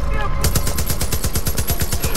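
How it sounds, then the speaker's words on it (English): A machine gun in Far Cry 5 fires a loud, close, steady burst of rapid evenly spaced shots lasting about two seconds, with a high ringing tone over the rhythmic reports. "I'm pretty sure I'm on the machine gun"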